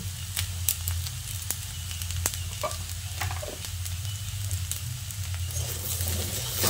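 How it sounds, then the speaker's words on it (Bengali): Arum root (gathi kochu) frying in oil in a wok, a steady close sizzle with crackling pops and spatters running throughout, no one talking. "দেখুন কি সুন্দর ভাজা ভাজা হয়ে যাচ্ছে"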